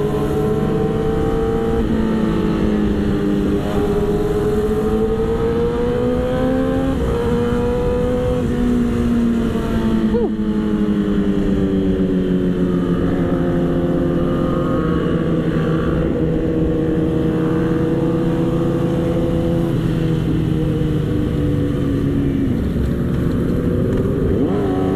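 A Yamaha R6 sportbike engine revs repeatedly at close range, each throttle blip rising and falling in pitch over a steady loud drone of engines and wind, with no talking.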